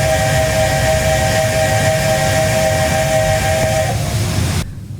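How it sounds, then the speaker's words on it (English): The secondary steam whistle of a Flying Scotsman LNER A3 locomotive in Train Simulator Classic blows a loud, sustained tone over the constant hiss of its safety valves, then cuts off abruptly near the end. "here's its secondary whistle, and hopefully you can hear this over the safety valves that are going off"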